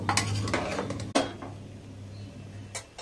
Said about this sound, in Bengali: আমি কিন্তু ফ্লেমটা একদম হাই রেখেছি, হাইতে রেখে চালটা খুব ভালোভাবে মিশিয়ে নেব।